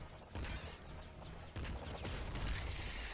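A missile explosion in Nuclear Throne bursts amid dense, chaotic game gunfire and blasts, with a second heavy impact about halfway through and continuous crackling action.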